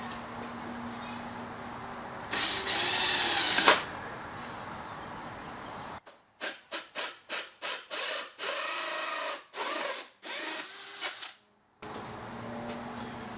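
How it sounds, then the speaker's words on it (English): A power drill grinds in short repeated bursts through a skull decoration held in a vise, starting and stopping several times, close up, with a brief rasping sound before it. "I'm going to work on drilling a hole through it"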